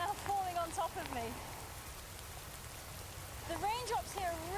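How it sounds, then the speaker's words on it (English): Heavy monsoon rain in India pours down as a steady, dense hiss of large raindrops, with a voice talking over the start and again near the end. "The raindrops here are really, really large, and you can see they're making pot marks in the sand because they're so big."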